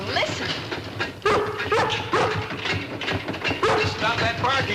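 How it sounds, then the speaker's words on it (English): A dog barks several times in sharp bursts at a new refrigerator, over a rumbling, rhythmic clatter like a moving train, with voices mixed in. "Stop that barking, girl."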